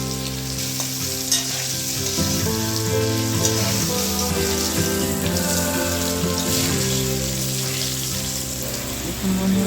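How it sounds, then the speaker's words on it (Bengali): Potatoes fry in hot oil in a wok, giving a dense, continuous sizzle with light stirring over background music. "এবার কড়াইতে তেল দিয়ে আলুগুলো ভেজে নিচ্ছি।"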